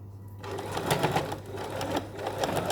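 A sewing machine stitches across a zipper on a pouch, running steadily, its needle clattering in a fast, even rhythm up close, with no talking.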